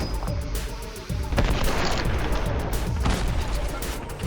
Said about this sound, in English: Explosions and gunfire rained across the field